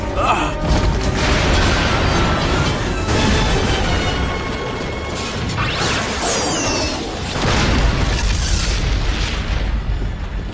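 A cartoon rocket launch erupts in a loud, sustained roaring explosion with booming bursts and whooshes rolling on for several seconds.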